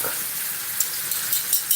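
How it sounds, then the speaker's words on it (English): Garlic fries with butter in a pan, a steady soft hiss and crackle with small pops, close and alone. "So while I'm frying like that, give him some garlic."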